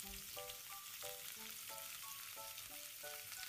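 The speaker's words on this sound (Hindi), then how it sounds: "अनियन को अच्छे से फ्राई कर लेंगे" Onions fry in oil in a pan after cumin seeds, a faint, steady low sizzle with no voices.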